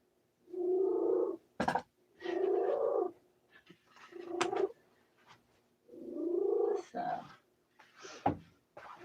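Pet cat meowing in long, drawn-out, complaining wails, several in a row with short gaps, close up, mixed with brief scuffling and clicking sounds.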